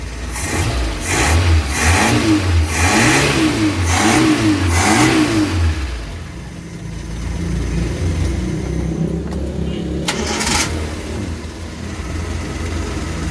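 A Suzuki Carry 1.0 engine fires up after carburetor tuning, revving loudly in several rising and falling bursts, then settles into a steady, even idle close by.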